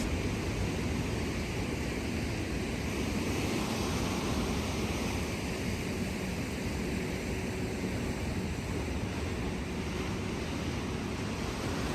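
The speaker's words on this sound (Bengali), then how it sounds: "ভারী ঢেউ আসছে।" Heavy ocean waves roll in at La Jolla Cove, a continuous broad roar of surf with wind buffeting the microphone, steady and loud with no talk.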